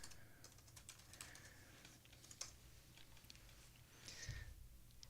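Typing on a computer keyboard: a rapid, uneven patter of soft key clicks close to the mic, continuing throughout with no talking, and a slightly heavier burst of keystrokes near the end.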